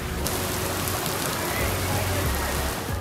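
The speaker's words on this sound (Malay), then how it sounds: "Tapi sekarang dah hujan." Rain pours steadily outdoors at Gamuda Garden in Rawang, a close, dense hiss of drops hitting surfaces that holds constant for a few seconds with no break.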